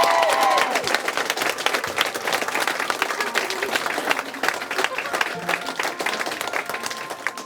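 Audience clapping and cheering after a girl group is named, dense continuous applause with scattered whoops running the whole time at fairly even, moderately loud level.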